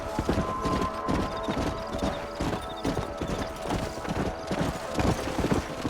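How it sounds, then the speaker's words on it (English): A herd of wild horses gallops in the Red Dead Redemption video game, with dense, continuous hoofbeats clip-clopping close by and an occasional faint whinny. "Parce, puro caballo salvaje, qué cosa tan hermosa, parce."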